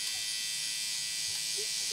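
A Philips OneBlade electric shaver trims a beard, giving a steady close bright buzz throughout with a slight scratchy texture as the blade moves over the whiskers.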